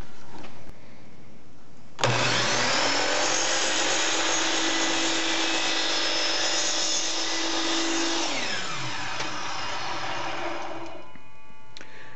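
Power saw cutting wood with an auxiliary fence backer, motor spinning up sharply into a loud sustained whine under the cut, then winding down and cutting off.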